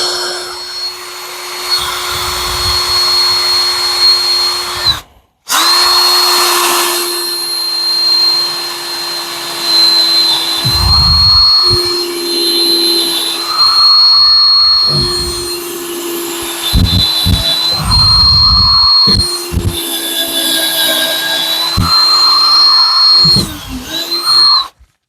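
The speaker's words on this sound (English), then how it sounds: "when that's level, we'll just start drilling" A power drill with a brad point bit whines steadily at a high pitch while boring, running nearly continuously with one brief stop, loud and close.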